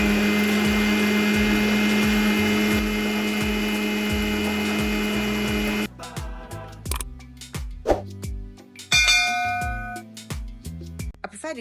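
A VTCL blender runs loud and steady in its small cup, grinding powder with a dense whirring drone, then shuts off and is followed by scattered clinks and clatter of handling the cup.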